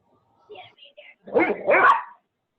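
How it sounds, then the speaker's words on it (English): Playful barks and yips from dogs romping together in a backyard, two quick bursts close by after a few faint whimpers. "These are the happiest dogs, I swear."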